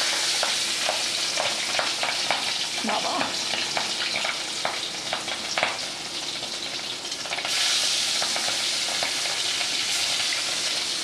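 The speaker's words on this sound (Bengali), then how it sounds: "কড়াইতে তেল গরম হয়ে গেছে, এবার আমি এই নুন হলুদ মাখানো ট্যাংরা মাছগুলো ভাজার জন্য দিয়ে দেবো।" Tangra fish coated in salt and turmeric fry in hot oil in a kadai, a loud steady sizzle running throughout with stirring clatter, briefly under a voice.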